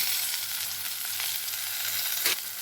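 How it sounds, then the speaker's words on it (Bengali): Potatoes and eggplant fry steadily in oil in a pan, a continuous close sizzle with a brief louder crackle near the end and no talking. "আলু বেগুনগুলো আমার ভালো মতন ভাজা হয়ে গিয়েছে"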